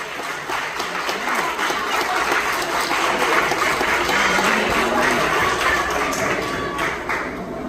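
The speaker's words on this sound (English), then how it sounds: "I need y'all to stand and give them a nice round of applause" Sustained applause from a seated crowd rising for a graduate's cousins at a commencement ceremony, thick continuous clapping at a steady level throughout, with faint voices mixed in.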